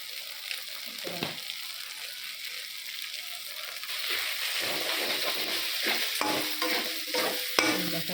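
Thick spice paste (masala) sizzles in a pan while being stirred steadily, with bursts of scraping and frying noise, close and moderately loud, without talk.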